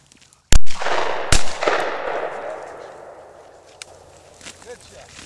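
Two loud, close shotgun blasts ring out about a second apart during an outdoor quail hunt. Each sharp crack trails off in a long rolling echo over quiet field ambience.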